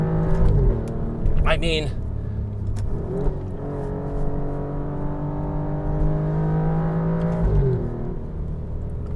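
Alfa Romeo Giulia QV in race mode on a bumpy road, its engine droning steadily up close with rising and falling rev sweeps, under someone talking throughout.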